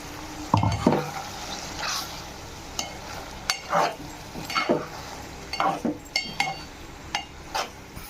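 Scraping and stirring in a pan as onion paste is mixed into frying ivy gourd, over a soft steady sizzle, with intermittent clinks of a utensil against metal.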